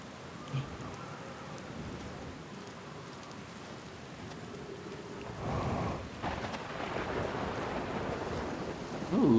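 Rainstorm in the game Outer Wilds, a constant hiss of rain on surfaces with a swelling thunder rumble near the end, moderately loud and with no speech.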